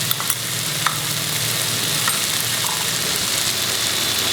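Okra bhaji sizzles loudly and steadily in a hot pan as turmeric is added and stirred in, with a continuous frying hiss and no talking.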